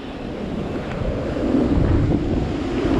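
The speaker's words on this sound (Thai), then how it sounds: "ดูดิลมแรงดูเดือดนั่นน่ะนั่นน่ะ เห็นไหม มันแรงมากเลยนะเห็นไหม" Strong wind roars steadily across the microphone on the banks of the Mekong River under clearing skies, a loud, continuous buffeting rush with no voices.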